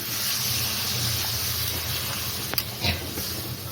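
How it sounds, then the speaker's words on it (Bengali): A splash of water hits a hot pan of frying eggplant and fish, producing a sustained close hiss and spray with a brief sharp clatter near the end. "এবার অল্প আমি জল দিয়ে দিচ্ছি"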